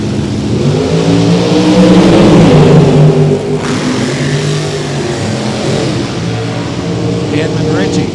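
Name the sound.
drag racing dragster engine accelerating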